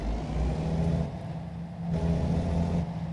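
Deep rumbling diesel engine of a Volvo truck in American Truck Simulator pulling away in second gear, a steady low drone that swells and eases as it accelerates, loud and close with no talk.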